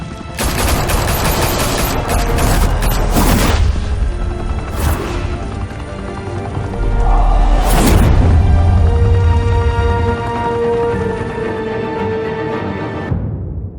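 Rapid gunfire fills a Batman Telltale shootout, with dense automatic bursts and sharp individual cracks layered over a loud, continuous game score.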